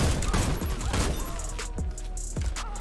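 Shotgun blasts in the online shooter Warface, a few heavy booming shots spaced about a second apart over constant game noise, loud and close.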